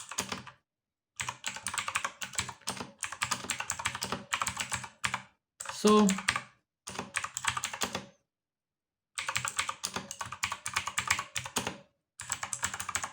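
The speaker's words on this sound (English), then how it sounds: "this is normal writing, nothing too hard, just soft touch on the keys" Bursts of clicky typing on a Redragon K561 mechanical keyboard with blue switches, quick and steady with a soft touch, broken by short pauses, with one brief spoken word in between.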